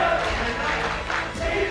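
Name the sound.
crowd cheering in the MPL esports arena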